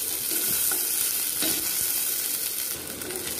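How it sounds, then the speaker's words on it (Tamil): Curry leaves fry in a pan for a chutney, making a steady, close hiss of oil with a few soft stirring knocks. "கறிவேப்பிலை பச்சை வாசனை போற வரைக்கும் நாம இத வறுத்துக்கலாம்"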